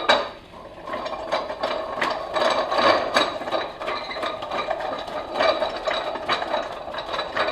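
A ratchet wrench clicks steadily and close up as the mount of a Harbor Freight Pittsburgh 61179 mini tire changer is tightened, in quick repeated bursts of metallic pawl clicks with no speech.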